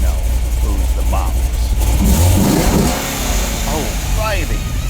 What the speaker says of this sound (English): Best part of backing in is all that exhaust ricochets off the wall.